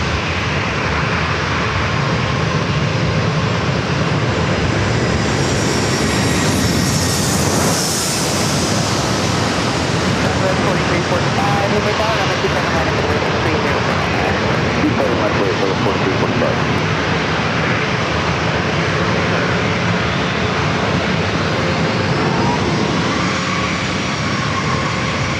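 JetBlue airliner on short final for runway 27 at San Diego, a loud continuous engine roar with a brighter hissing surge mid-way as it comes in close, steady wind-like noise throughout and voices talking underneath.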